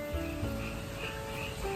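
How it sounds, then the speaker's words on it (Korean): Frogs croaking on a rainy day, from a played nature recording: a steady, fairly quiet chorus of layered calls with a constant hiss of rain behind it, and no voices. "개구리가 개굴개굴 우는 소리예요."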